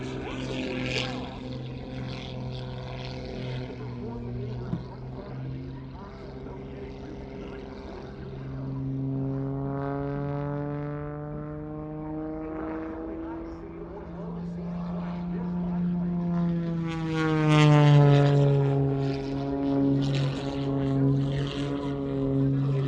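At an air show, a propeller airplane drones overhead, its engine pitch rising and falling as it maneuvers, loud and continuous, swelling toward the end as it passes closer.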